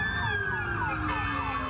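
Emergency vehicle sirens of first responders at a school shooting in Nashville wail continuously, their tones sweeping up and down over a steady low rumble.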